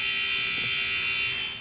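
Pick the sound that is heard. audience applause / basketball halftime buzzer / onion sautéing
basketball halftime buzzer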